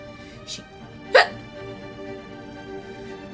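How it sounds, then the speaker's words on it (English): A single sharp hiccup close to the microphone, with a faint earlier one just before, over a low steady game-music background. "Everything gives me the hiccups."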